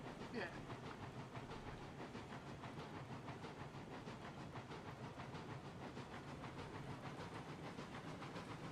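Steam locomotive coasting with the throttle shut in the railroad game Railroads Online: a faint, steady hiss with regular clicking rhythm of wheels on track, with quiet talk over it.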